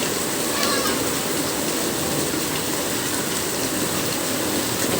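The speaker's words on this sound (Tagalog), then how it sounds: "Maulan na rin po. Baha na rin kasi, oh. Baha na, oh, baha yung iskinita." Heavy rain pours and floodwater rushes through a flooded alley, a dense, unbroken roar of water that holds steady throughout, fairly loud and close.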